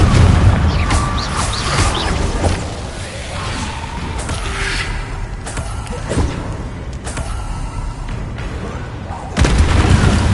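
Repeated fiery spell blasts and booming impacts from combat in the video game Hogwarts Legacy, loud thuds and whooshes recurring every second or two over a dense game soundscape.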